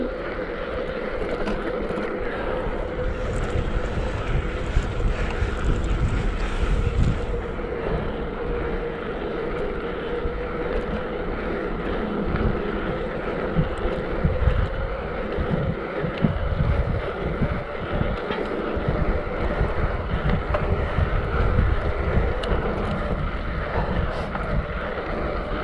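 Steady wind buffets the microphone, a constant rough rush and rumble that runs the whole time with no voices.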